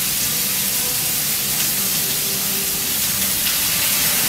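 Zoodles with onions frying in a hot pan on high heat, a steady broadband sizzle and hiss that holds evenly throughout, close and loud with no voices.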